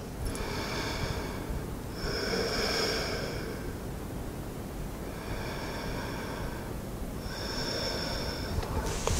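Slow rhythmic breathing during a vinyasa yoga session, held in sphinx pose on the mat: long airy inhales and exhales close to the listener, roughly two full breath cycles over steady background hiss.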